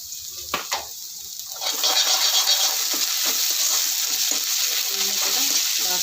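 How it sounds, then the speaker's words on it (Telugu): Ginger garlic paste sizzles and fries in hot oil with urad dal vadiyalu curry, starting with a few scattered pops, then settling into a steady, close bright crackle. "ఇప్పుడు ఫ్రై అవుతుంది కదా, కొద్దిగా అల్లం వెల్లుల్లి పేస్ట్ వేసుకున్నాం"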